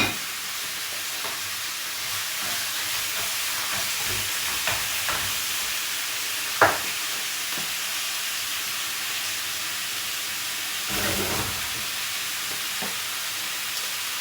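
Broccoli and cashew Sichuan stir fry frying in a wok, a steady broadband sizzle with occasional stirring clanks and one sharp scrape, continuous and close.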